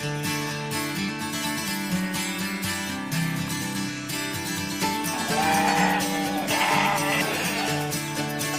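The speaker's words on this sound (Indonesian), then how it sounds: "Berawal dari memelihara 60 kambing, kini kandang Pak Wage mampu menampung hingga 126 ekor." Many goats in a crowded livestock pen bleat over one another, with wavering cries rising and overlapping continuously at close range.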